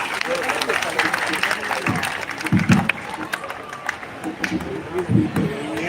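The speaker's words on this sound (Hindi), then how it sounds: "तालियां और दीजिए प्लीज सुदीप की" Audience applause at a live kavi sammelan poetry recital at the Chaiti Mela in Gola Gokarannath, moderately loud and mixed with crowd noise and chatter, with talk over it.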